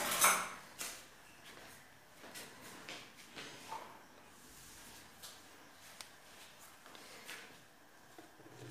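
A spoon clinks against dishes and dessert glasses while a cream dessert is served, giving a few sharp taps and scrapes in a quiet kitchen with sparse soft handling noises between them.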